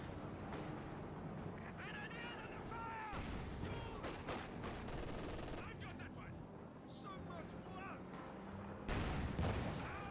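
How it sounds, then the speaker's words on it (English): A sniper firing in a Company of Heroes match between Soviet and Ostheer forces, with sharp shots recurring every second or two amid distant machine-gun and artillery rumble across the battlefield. "And my sniper keeps firing away."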